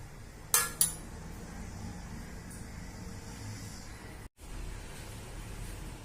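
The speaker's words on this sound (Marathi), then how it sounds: "आपण आता व्यवस्थित मिक्स करून घेऊ" A spoon mixing spiced bread roll filling in a bowl, two sharp metallic clinks near the start, then faint, soft scraping over quiet background noise.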